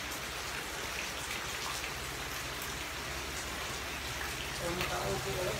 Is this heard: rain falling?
yes